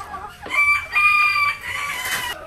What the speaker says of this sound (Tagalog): Ito yung mga inahin natin, marami na rin.